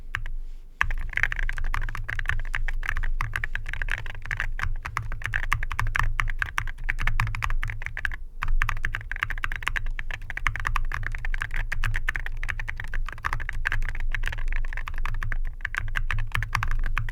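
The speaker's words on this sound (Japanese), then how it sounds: "次はキーボードにスイッチ入れたので、" Steady, fast typing on a mechanical keyboard with Owlab London Fog switches, deep, muted thocky key presses clicking continuously throughout.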